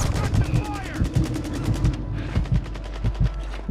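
Gunfire in a first-person shooter video game comes as rapid automatic bursts, loud and close, with short pauses between volleys of sharp, evenly spaced shots.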